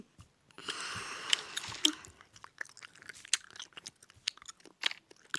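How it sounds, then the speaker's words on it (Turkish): Gum being chewed close to the mic, with wet crunchy bites and soft mouth clicks repeating irregularly and no talking over them. "Bu arkadaşlar ne çiğniyorum derseniz sakız."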